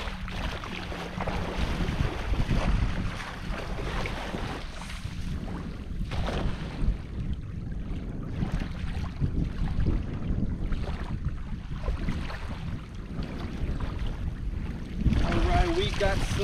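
Gusty wind rushes across an open waterside spot near Aransas Pass on a fishing day, a steady low roar with microphone buffeting that runs throughout and swells near the end, with some talk underneath.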